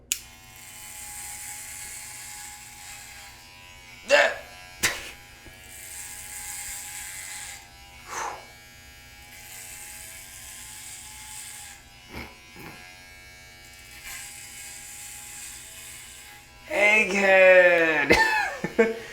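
Electric hair clippers with a 1.5 guard and the lever closed buzz a man's head for a buzz cut, a steady close hum broken by a few short clicks and bumps, and someone speaks briefly toward the end.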